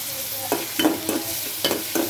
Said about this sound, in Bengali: তেলত দিয়ে ভাজি করছুম